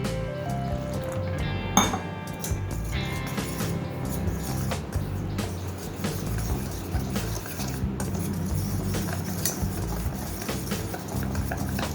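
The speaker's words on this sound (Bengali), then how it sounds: "এটা খুব ভালোভাবে আমাদেরকে এইভাবে গুলে নিতে হবে যাতে এর মধ্যে একটুও লাম্পস থেকে না যায়" A spoon stirs chila batter of flour, cumin and water in a bowl, giving soft repeated scraping and clinking close by, with one sharper knock early on and a steady gentle rhythm throughout.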